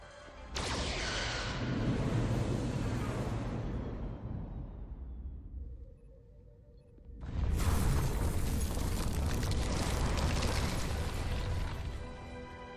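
Starship weapons fire and explosions in the Star Trek Resurgence video game: a loud, sustained rumbling barrage fades out, then a second heavy blast erupts and roars on, with no talk.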